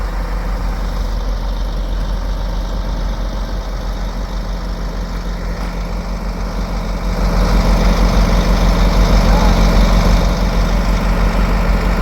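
Greyhound bus engine idling nearby at a station, a continuous heavy low rumble that swells louder in the second half, with no voices.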